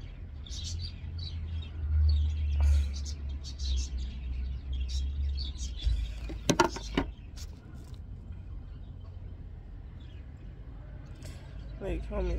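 Talkative birds chirp and tweet outdoors in summer, rapid bright calls scattered throughout at moderate distance over a low rumble, with people talking during the clip.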